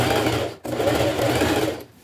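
Sewing machine stitching fabric scraps, a close, steady rapid whirring that pauses once briefly and then runs on before stopping.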